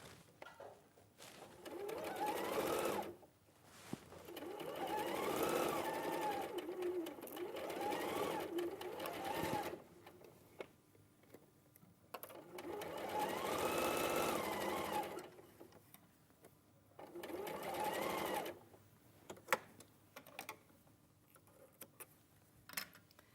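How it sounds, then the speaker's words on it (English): A sewing machine stitches a quarter-inch seam in several bursts, each a steady whirring hum that lasts a few seconds, separated by quiet pauses with faint handling noises. "we're going to sew a 1/4 inch again."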